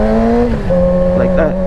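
A 600cc motorcycle pulls away, its engine holding a steady droning tone that drops briefly at a gear change and then climbs again, loud and close with wind noise around it.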